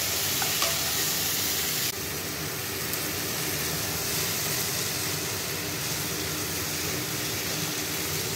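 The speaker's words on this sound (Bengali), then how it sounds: "সে সুন্দর কষানো হচ্ছে গো।" Mutton curry with potatoes sautéing in a pan, Bengali style: a continuous loud sizzle with stirring scrapes throughout, no voices.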